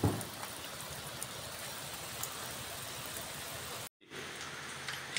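Heavy monsoon rain pours beside a house where water has pooled, a steady dense hiss of drops on surfaces that cuts out briefly near the end before resuming.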